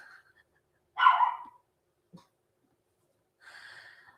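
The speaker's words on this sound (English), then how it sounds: "now he's barking because the neighbour's putting their wheelie bin out" A dog barks nearby as a neighbour puts a wheelie bin out: one loud bark, a brief quiet snort, then a softer second bark after a pause.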